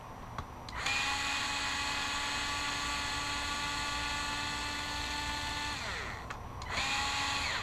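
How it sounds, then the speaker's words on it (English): An electric screwdriver backs out long screws while a front differential is removed, a close, steady whine running for about five seconds before winding down, then starting again. "The electric screwdriver really saves you a lot of wrenching"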